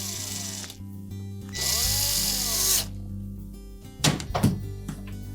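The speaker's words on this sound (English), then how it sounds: "We'll reinstall the mounting screws." Power driver whirring in short bursts while reinstalling the mounting screws of a GE range surface burner control, followed by clunky handling thumps, close and with no talking.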